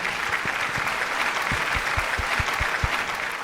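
An audience applauds a Kalaripayattu martial arts performance team at a televised show, steady crowd clapping with a few louder close claps standing out, continuous and fairly loud.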